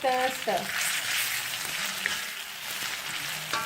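Onion frying with homemade ginger garlic paste for a Malabar chicken biryani gives a loud, continuous sizzle, with a brief tonal sound at the start.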